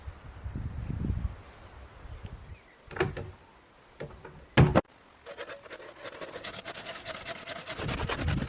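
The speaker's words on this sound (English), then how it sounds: "The draw knife bites deep." A draw knife shaves a heavy wooden log while a cabin is built by hand: a few short, sharp scrapes, then a steady rasping shave that grows louder toward the end, with no talking.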